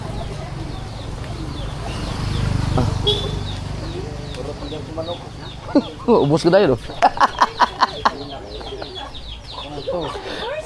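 Chickens clucking in a rural yard, short clipped calls clustered in the second half, heard beneath and between people talking casually nearby.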